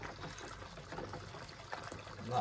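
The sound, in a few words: water running from a tap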